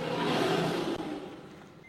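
A car drives past close by on a road where elephants stand, its engine swelling to a broad rumbling whoosh and then fading as it moves away.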